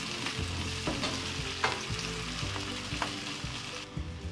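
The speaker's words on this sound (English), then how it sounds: "Now I'm adding the garlic and curry leaves. Mix them well and let it cook for 2 more minutes." Garlic and curry leaves sizzle and fry with onions in a pan for a mango fish curry, a steady close crackle broken by a few sharp stirring knocks throughout.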